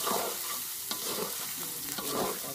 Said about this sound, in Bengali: বেরেস্তা করার জন্য পেঁয়াজকে কুচিয়ে রেখেছিলাম, সেই পেঁয়াজটা এখন ভেজে নিচ্ছি।